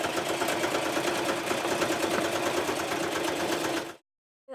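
A sewing machine stitches sailboat canvas for a spray dodger. It makes a fast, steady mechanical chatter, close and constant for about four seconds, then stops abruptly.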